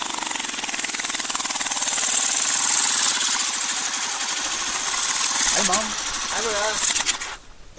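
A new 350cc motorcycle engine idles loudly with a rapid, steady pulsing throb, and a voice briefly joins near the end.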